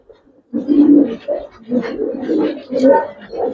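A pair of Giribaz pigeons coo close by in a series of low, throaty, pulsing calls with short pauses between phrases.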